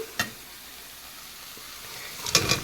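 Potatoes going into fried masala for a curry: a faint, steady sizzle runs throughout, with a clatter at the start and a louder clink of the utensil near the end.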